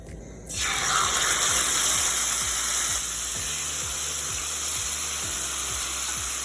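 Chicken searing in olive oil in a skillet, a loud, steady sizzle that starts abruptly as the meat hits the hot pan, then settles into continuous crackling spatter.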